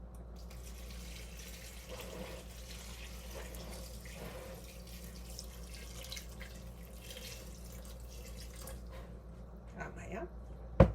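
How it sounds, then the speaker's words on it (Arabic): Water poured into a pot over raw harira soup ingredients, a soft steady trickle and splashing at low level with faint clatter, ending in a sharp knock. "دابا غادي نغطي عليه على هاد المكونات هادو بالماء."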